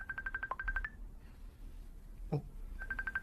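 A cellphone rings with a repeating electronic tone pattern, a burst of rapid pulsed beeps, a pause, then the pattern returning, set against a quiet indoor room in a radio drama scene.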